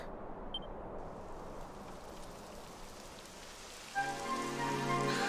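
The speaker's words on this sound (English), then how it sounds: "Typical. It would have to go and start raining, wouldn't it?" Rain begins in the video game Dragon Quest XI S, a steady hiss of falling rain on surfaces that carries throughout, joined near the end by a rising tonal game music cue.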